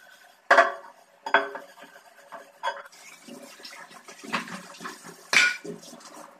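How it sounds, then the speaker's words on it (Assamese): Dishes are washed in a home kitchen sink: clattering pots and plates knock sharply a few times amid running, splashing water, close and loud, with no talking. "যি দুটামান বাচন ওলাইছে তাকে মাজিব লৈছোঁ"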